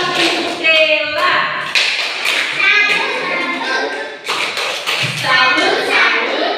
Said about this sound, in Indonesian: Tepuk tangan untuk Bella.